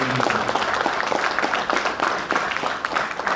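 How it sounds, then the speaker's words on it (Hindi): A seated audience at a business growth-plan presentation claps loudly and steadily, close and energetic, with sharp individual claps audible throughout. "रॉयल्टी अपने लिए जोरदार ताली बजाओ, टेक्निकल जोरदार ताली बजाओ"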